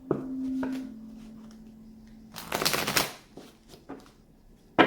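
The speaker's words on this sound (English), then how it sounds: "Let's do 3 more shuffles to see what the collective is going to be at" Tarot cards are shuffled in quick riffling bursts, the loudest a dense flutter of about half a second, followed by scattered soft taps and a sharp snap at the end over a faint hum.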